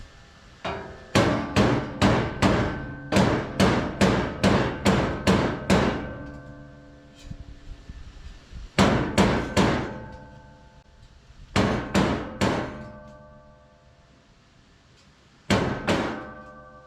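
A hammer strikes metal repeatedly during weekend trailer work, with ringing clangs. One fast run of about a dozen blows is followed by shorter bursts of three and two strikes, each blow close and loud.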